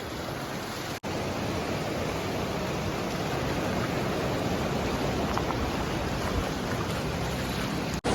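Floodwater from a swollen river rushing near a bridge, a dense, broad steady roar heard close and continuous with no voices.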